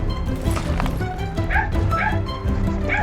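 Dogs yapping and barking in short repeated outbursts close by, with whimpering yips mixed in over a dense, noisy background.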